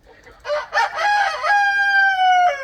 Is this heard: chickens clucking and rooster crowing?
yes